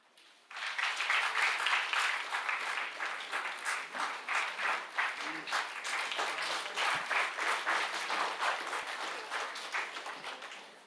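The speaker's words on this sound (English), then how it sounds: "Let us give a heartfelt round of applause to these pillars of our department." Sustained applause from an audience at an alumni meet honour ceremony for a university applied mathematics department. It starts abruptly, stays loud and dense for about ten seconds with no talking, then begins to ease.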